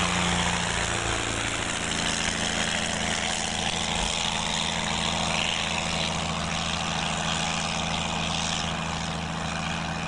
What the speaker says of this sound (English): Taubes in flight seem to float on the air.